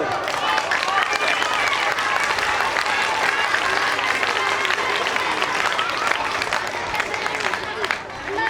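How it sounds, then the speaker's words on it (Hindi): An audience at a Ganpati puja claps together at a performance, giving dense, loud, continuous applause with crowd noise mixed in. Individual claps are not clearly separated. "क्या आप लोग एक साथ 16 ताली बजा सकते हो?"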